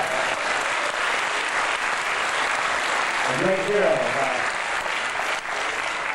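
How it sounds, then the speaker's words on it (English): A university lecture audience at Sonoma State applauds in a dense, continuous wash of clapping that holds steady throughout, with a brief voice or cheer rising through it midway. "How about a round of applause for Aldous Huxley?"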